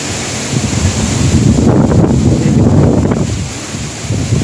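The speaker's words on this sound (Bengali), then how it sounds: "পুরো হাওয়া চলছে" Loud, steady gale of a storm blows hard across the microphone outdoors, a dense roaring rush with brief gust surges and no talking.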